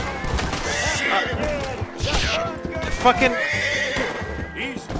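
A horse in Red Dead Redemption 2 gives loud, shrill neighs as it dies, mixed with hoofbeats and a crash, while someone talks over it.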